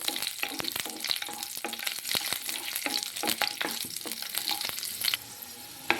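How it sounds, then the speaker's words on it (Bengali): Garlic frying in hot oil, a steady loud sizzle with crackling and occasional stirring scrapes, no voices. "রসুনটাকে এবার আমি হালকা করে ভেজে নেব।"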